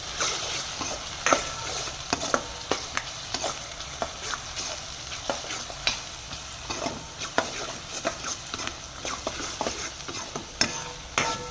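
A mixture seasoned with salt and turmeric sizzles in a hot pan while a spatula scrapes and stirs it in frequent short strokes, a steady close frying hiss beneath the regular clicks, no talking.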